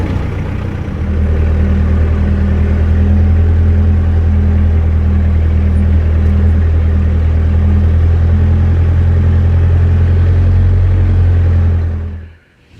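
A farm tractor engine runs close and loud with a steady, deep idling rumble that holds even throughout, then cuts off sharply at the end.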